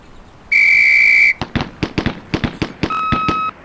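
A sharp, loud, steady whistle blast in the video game Police Quest: SWAT, followed by a rapid series of about ten gunshots and a second, shorter whistle tone, all close and with no talking.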